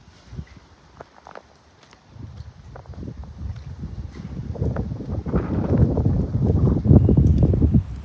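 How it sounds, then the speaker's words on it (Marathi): Wind roars and buffets, rising steadily from a quiet start to a loud, continuous rush with no talking, on a foggy monsoon day among trees at Amboli. "वारा सुटलाय. वारा मस्त सुटलाय."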